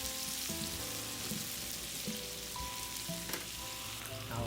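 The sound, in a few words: chicken frying in oil in a pan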